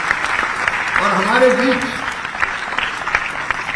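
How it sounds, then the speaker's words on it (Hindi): Audience applause at an award ceremony in Bhopal, steady clapping running beneath someone speaking into a microphone. "जोरदार ताली"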